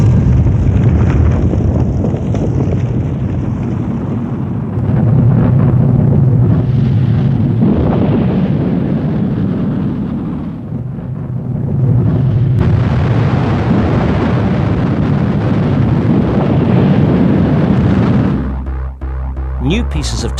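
Rocket launch at Peenemünde: a loud, continuous rumbling roar with a deep low-end boom runs the whole length. It swells and dips, then shifts character near the end.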